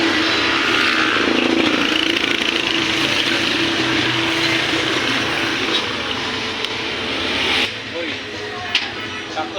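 Motorcycle engine running steadily on a night ride, a continuous close droning hum with wind rush, loud throughout and easing slightly near the end.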